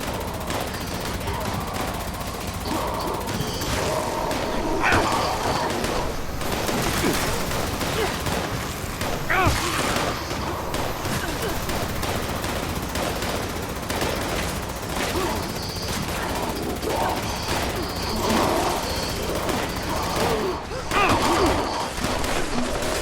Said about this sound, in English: Really tough with a Gatling laser because Gatling laser has a spin down time